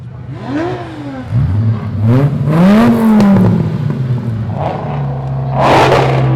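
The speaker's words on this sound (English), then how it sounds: "some of these really cool sports cars that are passing on through, revving up" Powerful sports car engines rev and roar as they pass nearby during an evening Christmas parade, rising and falling in pitch, with a steady low rumble underneath.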